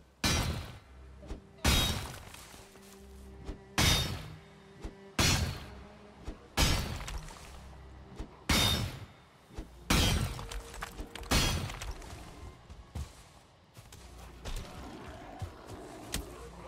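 A big stone breaks apart in the video game Valheim: a string of loud, crashing impacts lands every couple of seconds, each with a sharp crack and a short rumbling tail, before the sound settles into softer scattered knocks.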